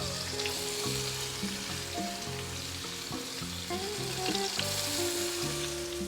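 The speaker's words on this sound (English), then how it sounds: "Listen to that sizzle, y'all." Very thin fish fillet slices for seafood tacos sizzle steadily in a hot frying pan, a loud continuous crackle and hiss with occasional stirring, no talking.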